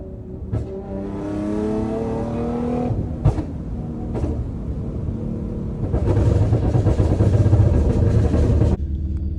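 A Nissan 370Z engine with 3-inch intakes and a tune revs hard in repeated bursts, rising and falling, then roars loudly near the end with a gritty, rumbling intake growl.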